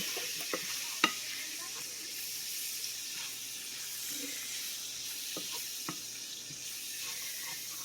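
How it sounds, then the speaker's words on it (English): Flour stirred into sizzling fat for biscuit gravy, a soft continuous hiss with a few light spoon taps against the pan, quiet and close with no talking. "we're gonna add our half cup flour. And we're gonna stir."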